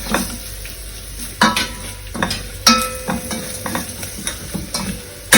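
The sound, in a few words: roasting rasam powder and asafoetida in a pan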